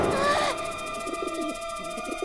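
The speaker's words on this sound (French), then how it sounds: "Pierre, je te présente les pigeons" Cartoon pigeons coo in a garden, soft repeated throaty calls over a sustained tonal background, after a brief opening of higher whistling sounds.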